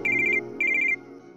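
A telephone rings in a home, two bursts of a bright electronic trill separated by a short pause, fairly faint with no talk over it.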